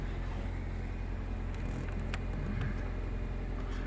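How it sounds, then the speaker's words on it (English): A 2007 Toyota Corolla engine runs on fast idle at about 1400 RPM, a steady, even low rumble and hum that stays close and constant throughout, with no voices. "So right now it's on idle up. It's at like, what is it, 1400 RPM."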